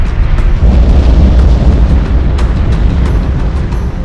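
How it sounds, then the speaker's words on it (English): A continuous deep, roaring rumble with crackling pops and bursts, loud and steady throughout, like lava spraying from a volcanic fissure. "Lava erupts from the crack, spraying and flowing out across the valley"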